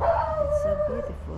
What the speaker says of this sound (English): that's a dog in my neighborhood